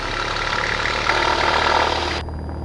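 The engine of a Cessna 172 runs steadily as power is eased up toward full for takeoff, a constant droning hum that rises slightly in the middle, then drops back abruptly near the end.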